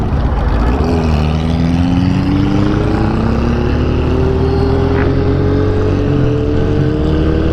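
Motorcycle engine, a Kawasaki Ninja 400 or Honda CB400, riding near Marilaque in the Philippines, holds a loud steady drone whose pitch slowly climbs as it accelerates, with no talk.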